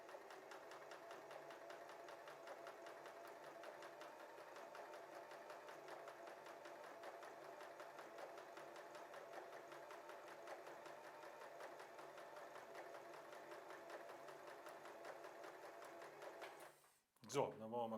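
A W6 N 1615 sewing machine runs steadily for about seventeen seconds, stitching a hem from the wrong side of a garment, a continuous even mechanical whir that stops abruptly near the end with a couple of sharp knocks.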